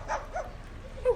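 A parrot imitating a dog, giving a couple of short, soft yelping bark-like calls with a brief pause between them, faint and close with no talk over them.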